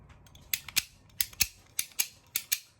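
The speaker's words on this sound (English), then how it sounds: "the first tool that we're going to use to cut our pipe is called a ratcheting pipe cutter" A ratcheting pipe cutter clicks through PVC pipe in crisp, sharp snaps that come in quick pairs, four pairs in all, close and dry with no talk.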